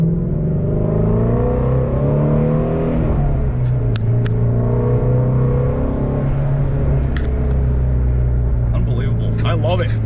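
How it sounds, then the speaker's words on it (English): Ford Shelby GT350 Mustang's flat-plane-crank engine bellows through its exhaust with a window cracked open, a loud sustained drone that climbs and falls with the revs while someone speaks over it. "I'm gonna open up the window a little bit so you guys can hear this exhaust."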